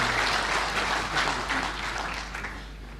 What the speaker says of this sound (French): je pense qu'ils méritent un applaudissement, tous les membres du comité organisateur